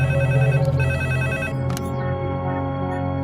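A telephone ringtone sounds as a call is placed to a police superintendent, a loud close electronic ringing pattern that repeats and then stops, with no speech.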